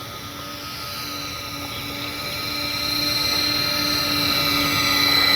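An Avios Albatros V2 radio-controlled model airplane flies slowly past with landing flaps set, its steady electric motor whine rising gradually in loudness as it draws nearer over an outdoor runway.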